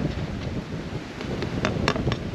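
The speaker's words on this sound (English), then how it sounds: "Okay, so it is a bit windy out here." Coastal wind blows steadily across an outdoor cooking spot by the sea, a low rumbling gusty roar against the microphone with a few faint clicks mixed in.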